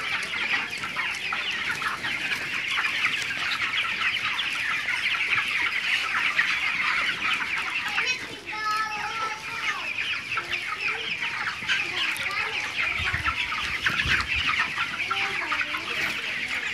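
Chickens on a poultry farm cluck steadily and loudly throughout, a dense, continuous chorus of many birds with overlapping calls and no talk.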